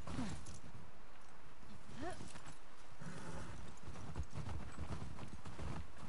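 Horse hooves clip-clop in The Last of Us Part 2, a steady rhythmic walking gait under constant game ambience and someone talking, with a brief whinny.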